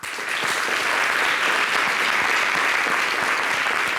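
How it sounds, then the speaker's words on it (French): Sustained applause from an audience on a French TV programme, steady and dense for about four seconds with no talk over it. "Ici, on ne pleure pas, on applaudit nos parents qui s'en vont."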